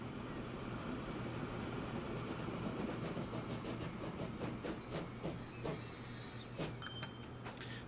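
Train pulling into a station in the Transport Fever 2 simulation game, a steady rumbling roll with rhythmic wheel clacks and rising metallic brake squeals near the end, heard alone.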